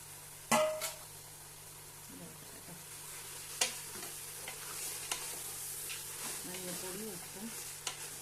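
Pre-prepared chicken drops into a hot pan and starts frying for chicken biryani, a sharp splash at first and then a steady low sizzle with occasional stirring clicks, fairly faint, with no one talking.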